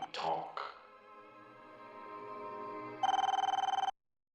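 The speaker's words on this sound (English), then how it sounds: "isn't that your phone ringing?" A telephone bell rings in a steady rapid trill, loud and close, after a brief burst of speech at the start.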